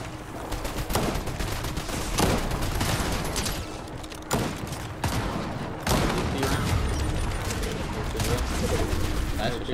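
Rapid bursts of gunfire and repeated shots crackle through a competitive shooter video game tournament match, loud and dense with sharp transient spikes throughout.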